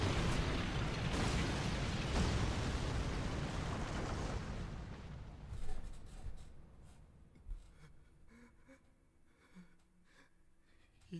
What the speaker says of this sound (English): back to the explosion